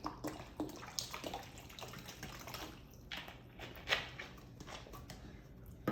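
Water is quickly poured out of a plastic bottle during a classroom ideal gas law demonstration, an irregular splashing and gurgling stream with intermittent glugs and drips, moderately quiet in a roomy space.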